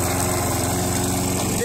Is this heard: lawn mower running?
yes